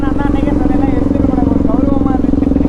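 A loud, close motorcycle engine idles and rumbles steadily for a few seconds, a continuous throbbing drone with a voice talking over it.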